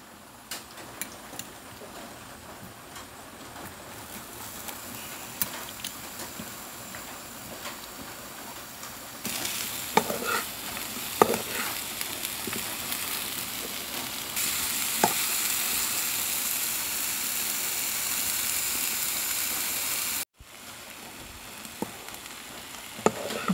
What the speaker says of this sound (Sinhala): දැන් අපි මේකට කෑලි කපා ගත්ත අන්නාසි ටික එකතු කරමු.